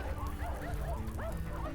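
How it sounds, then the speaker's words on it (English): Stray dogs whine and whimper in the Mahoyo visual novel, several short rising and falling yelps in quick succession, fairly close and moderately quiet over a low background rumble. "The stray dogs began to whine, fearful of the hulking figure before them."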